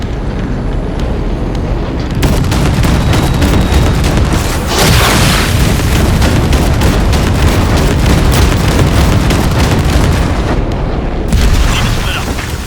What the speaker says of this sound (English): there's a monster gate that needs to be blown open.